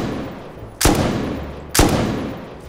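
Two sharp, loud gunshots from the video game Rust, spaced about a second apart, each ringing out into a decaying tail over low background noise.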